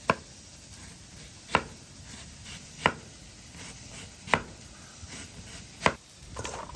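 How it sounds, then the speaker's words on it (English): A knife slices half an onion thinly on a cutting board beside a flat top grill, five or six crisp, evenly spaced chops sounding close over a steady background hiss. "I'm just going to take the other half of onion and thinly slice it"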